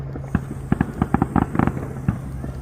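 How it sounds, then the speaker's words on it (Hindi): Fireworks at an Independence Day celebration pop and crackle in a quick irregular burst of sharp bangs, fairly close and loud, with faint background noise between the reports. "आतिशबाजी हो रही है।"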